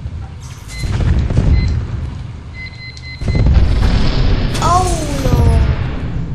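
A bomb explodes in the tank battle game Tanki Online with a heavy, rumbling boom that swells and holds amid continuous loud game noise, while a player talks over it.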